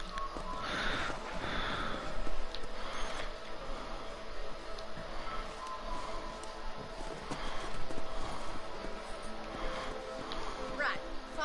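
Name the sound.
horse in the video game Red Dead Redemption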